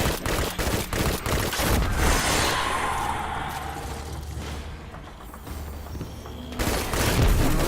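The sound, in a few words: gunfire in the video game Destiny 2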